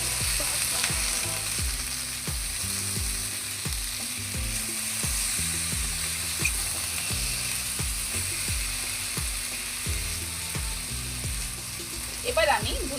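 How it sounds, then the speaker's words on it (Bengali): Vegetables frying in a pan with salt and turmeric, a steady sizzle under repeated scraping strokes of a spatula stirring them, close and continuous throughout. "ভালো করে সবজির সঙ্গে লবণ হলুদ মিশিয়ে দিতে হবে"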